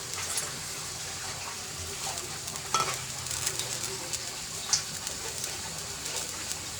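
Shing fish goes into a potato and bitter gourd curry, giving a steady close sizzle and bubbling with a few scraping stirs and clinks, and no one speaks.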